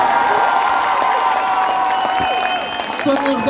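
A concert audience breaks into sustained applause and cheering for the singer and his musicians, dense clapping throughout with whoops and a voice talking over the crowd.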